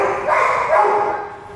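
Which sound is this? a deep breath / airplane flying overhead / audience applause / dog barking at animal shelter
dog barking at animal shelter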